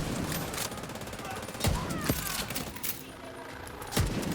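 Gunfire in a video game, a handful of sharp, loud shots cracking out at irregular intervals over a dense, noisy background of game sound.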